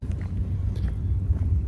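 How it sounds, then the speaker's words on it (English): Gusty wind from a thunderstorm squall line buffets the microphone outdoors, a steady low roar with surging rumbles throughout, loud and close with no talk. "There should be a big gust of wind coming through on this too."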